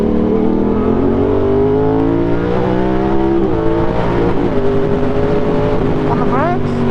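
A Yamaha MT-07 motorcycle accelerates hard along a wet straight, its engine note climbing steadily in pitch through the gears, loud and close with wind and road noise throughout.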